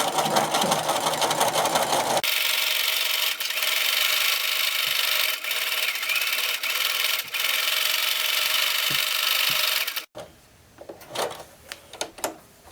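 Sewing machine stitching raw edge appliqué with fusible web, running loud and steady for about ten seconds, then stopping, followed by faint fabric handling.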